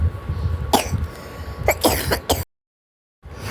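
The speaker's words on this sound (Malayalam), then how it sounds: "ഞാൻ ചുമച്ചപ്പോൾ" A few short, rough coughs and throat clearings come close to the microphone at a school fest. They sound in quick bursts over low background noise, then the sound cuts to silence for a moment.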